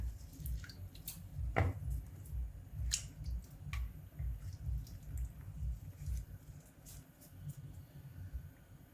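Moringa drumstick leaves being chopped, soft repeated knife cuts and squishy taps in a steady rhythm, close and fairly quiet with a few sharper clicks.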